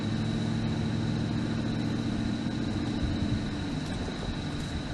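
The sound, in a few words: engine drone in cab of Chrysler 300C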